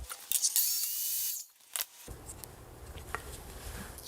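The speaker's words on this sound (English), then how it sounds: "And then we'll make that cut on the miter saw." A miter saw cuts through wood, heard as a loud, high whine of the spinning blade lasting over a second, followed by a brief quieter pause, a short second burst and lingering low workshop noise.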